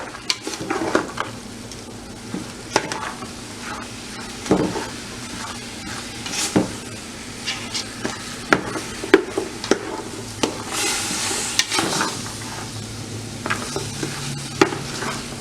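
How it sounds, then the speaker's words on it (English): Ground meat browning for chili in a pan, with steady sizzling and frying under repeated scraping and clinking stirs of a utensil against the pan, close and fairly loud, no talking. "So I'm going to stir this up."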